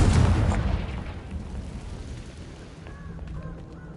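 A Confringo fire spell explodes in the Hogwarts Legacy video game. A loud burst at the start fades into a long rumbling tail, and faint tonal game effects sound near the end.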